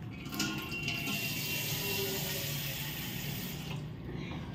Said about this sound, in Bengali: আর একটু জল দিতে হবে।